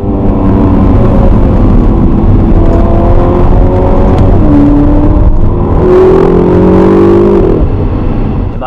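The 3.9-litre twin-turbo V8 of a 2015 Ferrari California T, mounted just behind the front wheels, hums steadily and loudly, then rises in a couple of smooth revs with climbing pitch before settling back, with no talk over it.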